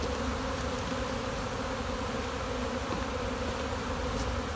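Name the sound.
honeybees buzzing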